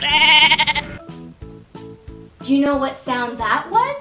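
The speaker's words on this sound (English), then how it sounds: "It's the sound of a sheep." Sheep bleating in a children's animal sound game, a wavering bleat at the start over light rhythmic music, then a voice speaking.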